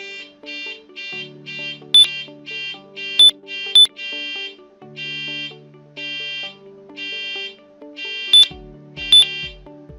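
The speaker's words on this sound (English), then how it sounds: "I have that connected to a buzzer, so it's probably gonna, you're probably gonna hear it when I click enter." A buzzer wired to a Schneider Electric control panel sounds in a repeating pattern of loud, evenly spaced beeps with occasional sharp clicks, alone in a quiet room.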